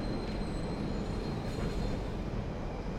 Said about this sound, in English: Oh, Subway, okay.